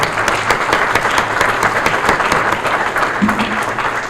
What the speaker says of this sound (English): I think they all deserve a great applause.